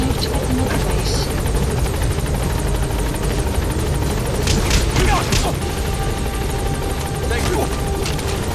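Extraction helicopter in Metal Gear Solid V: The Phantom Pain, a loud steady rotor drone filling the whole stretch with a few brief sharper game effects layered in.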